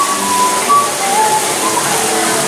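Water sprays steadily from a tiki statue at Volcano Bay, a constant loud hiss of falling water close by with faint whistling tones above it and no clear talk.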